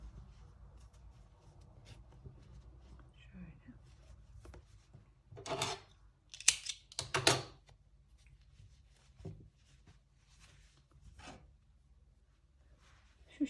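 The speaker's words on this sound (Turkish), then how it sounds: "Aşağıda ipimizi kesiyorum." Scissors snip thread during a crochet project at night, with a short run of rustling, rubbing handling sounds gathered in the middle and a few faint clicks afterward, quiet overall and with no talking.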